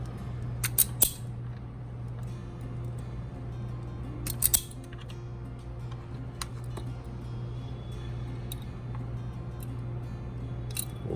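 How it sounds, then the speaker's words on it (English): Wire strippers snip and pull insulation off electrical wires for a model railway DCC solenoid, a few sharp clicks in small clusters over a low steady hum. "Strip the wires back about a ½ inch."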